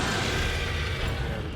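A slime explosion from Brachydios in the Monster Hunter video game: one loud, dense, continuous blast of noise that fills the short moment.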